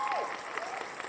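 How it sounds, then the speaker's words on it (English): Applause mixed into a song breakdown, a short burst of dense clapping sitting under a falling tonal sweep. "Sam Atkins, yay! Applause."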